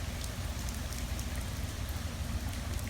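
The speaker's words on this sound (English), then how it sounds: "it has been raining non-stop for a long time" Heavy rain from Hurricane Irma pours steadily in a dense, unbroken hiss of drops hitting surfaces, constant and fairly close, with no voices.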